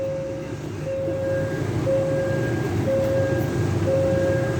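Thai train no. 725 on the Thonburi–Kanchanaburi line rolls into Kanchanaburi station, a continuous close rumble of rail cars with a regular repeating tonal beep sounding over it.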